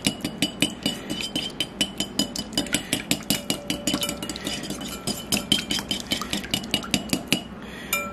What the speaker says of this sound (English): Take a whisk, and you want to beat this in real good.